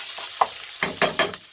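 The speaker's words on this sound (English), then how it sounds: "The first thing we're going to add into there is my spring onions and my ginger. Get that in, get that stirring" Spring onions and ginger sizzling in hot oil for a fish curry, a soft sizzle broken by several quick scraping stirs, close and moderately quiet, with no talking.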